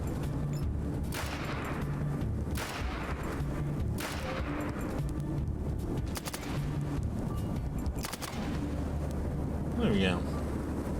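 Ranged weapon gunfire in the PC game ATOM RPG Trudograd, bursts of shots repeating over a dense, steady battle din with low droning game sound underneath, plus a brief rising whine near the end.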